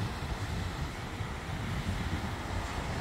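Ocean surf breaks against a beach in a steady, dense wash of roaring water mixed with wind buffeting the microphone.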